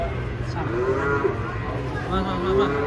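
An old sacrificial cow moos a few times, drawn-out low calls close by, over steady outdoor background noise.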